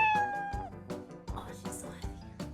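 Mochi the pet cat meows a few times up close, short insistent cries mixed with some nearby talking.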